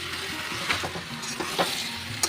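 Spiced chicken sizzles and fries steadily in a pan while being stirred, with a few scraping accents over the continuous hiss.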